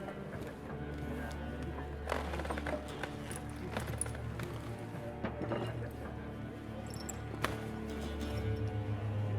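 Faint, steady clip-clop of Roach's hooves as Geralt rides his horse in The Witcher 3, an even trotting rhythm set low under game ambience.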